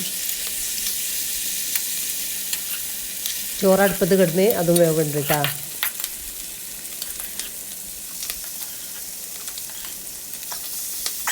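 Constant sizzling of cooked beef frying in an iron pan, with someone speaking briefly over it partway through and faint scraping clicks.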